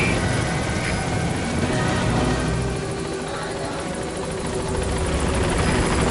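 Pequod transport helicopter arriving at a landing zone in Metal Gear Solid V: The Phantom Pain, its rotor and engine drone steady and loud throughout with a pulsing beat, no talk over it.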